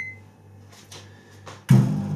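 A microwave oven is set going for a potato salad: there are a few faint button sounds, then the oven's low hum starts suddenly and keeps running nearby.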